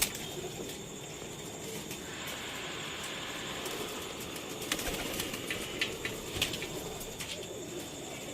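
Pigeons waiting to have their wing feathers trimmed coo softly in a loft, with a few faint bursts of wing flapping over a quiet steady background hum.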